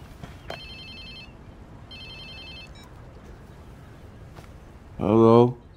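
A mobile phone ringing in the video game Watch Dogs 2, two bursts of high electronic ring tones with a brief chirp, followed by a voice speaking.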